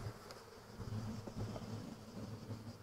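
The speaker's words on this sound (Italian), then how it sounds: "Le api sembrano abbastanza tranquille" Honeybees hum steadily at an open beehive in an apiary during an inspection, a dense, even buzz close by with no voices.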